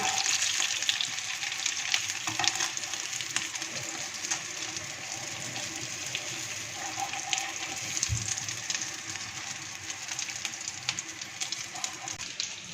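Chicken potato cutlets fry in hot oil with a steady, close sizzle and crackle that holds throughout, with a few faint clinks and scrapes in the pan.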